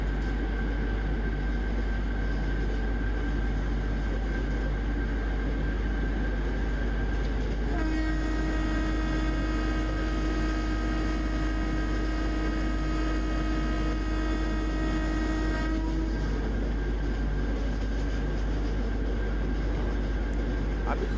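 A diesel locomotive in the Railworks train simulator game rumbles steadily with a constant low drone throughout, and a long sustained horn blast sounds through the middle, loud and continuous.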